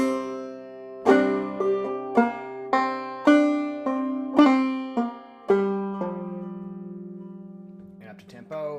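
A clawhammer banjo-style drop-thumb tune, an ornamented advanced version of Half Irish, plucked in about a dozen crisp ringing notes at a moderate pace, close and alone, ending on a long sustained tone with faint handling noise.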